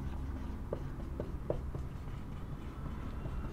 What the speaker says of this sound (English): so first let me write it down.